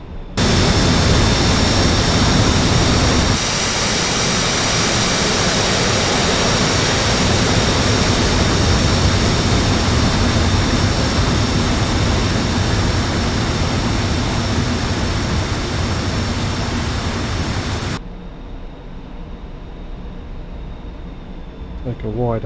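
A jet aircraft taxiing in the DCS World combat flight simulator gives a loud, steady roar with a high turbine whine that holds for most of the clip, then drops abruptly to a quieter background hum near the end.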